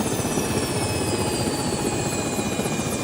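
A helicopter flies overhead with a loud, constant rotor drone and steady blade chop throughout, close and alone with no voices.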